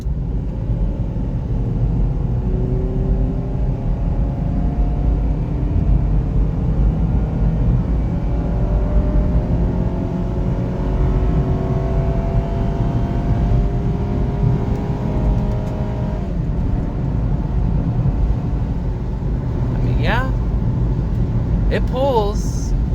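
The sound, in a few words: 2009 Honda CR-V engine accelerating during a pull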